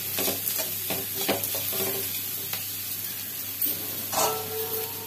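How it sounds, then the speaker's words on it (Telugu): Salt being stirred into cabbage frying in a pan, a spoon scraping and clacking in a steady irregular rhythm over a continuous sizzle, close and moderately loud, with no talking. "ఇప్పుడు దీంట్లో ఉప్పు వేసుకుని కలుపుకుందాం ఒకసారి."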